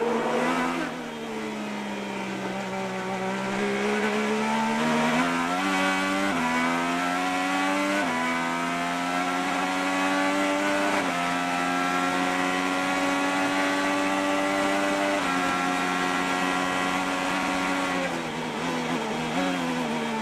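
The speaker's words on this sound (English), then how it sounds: "You can hear him go from full throttle straight to the brakes." An IndyCar at the São Paulo Indy 300 street race screams at full throttle with rising pitch, then drops sharply as the driver brakes and downshifts. The engine whine stays loud and continuous over about twenty seconds with little talk.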